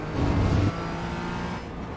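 Porsche Cayman GT4 race car engine at full throttle on the Lime Rock circuit, loud and close, a steady high-revving drone that briefly eases and settles partway through.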